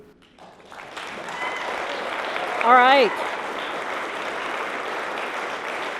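Audience applause at a congressional town hall in Anchorage with two candidates, steady clapping throughout with a voice speaking briefly over it midway.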